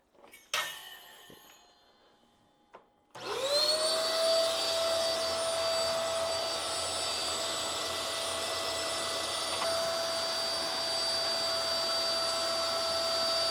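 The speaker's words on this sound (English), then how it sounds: "clean the stove up while sucking up most of the airborne ashes into the vacuum cleaner" An ash vacuum cleaner on a stand beside a wood stove roars to life after a few seconds of quiet clatter, then runs loud and steady with a high whine while sucking up ashes.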